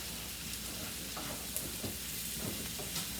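Onions and garlic sauté in a hot pan, giving a steady close sizzle and crackle with occasional soft stirring scrapes and no talking.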